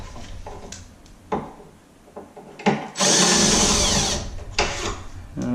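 Close, loud whir of a power drill driving in bolts for a tankless toilet install, a sustained burst of about a second and a half after a few scattered clunks and knocks.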